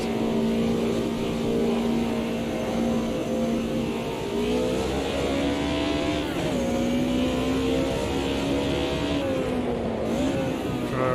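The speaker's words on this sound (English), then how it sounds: "naturally aspirated inline 4 engines, the BM certainly produces the nicer sound than the Merc." A BMW inline-four race car in the sim racing game Automobilista 2 drones steadily at high revs, its pitch climbing and dipping through gear changes as it laps, loud and continuous with no talk.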